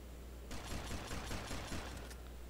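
A rapid burst of gunfire from GTA Vice City rattles for about a second and a half, dense and evenly paced shots at moderate volume against a steady game background hum.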